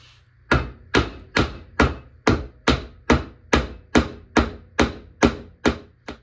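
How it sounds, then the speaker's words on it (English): A hammer flattening the end of a piece of solder while repairing a rare Alexander Heldenhorn, twelve sharp, evenly spaced metallic taps, close and loud, with no talk. "I'm actually going to flatten this end with a hammer."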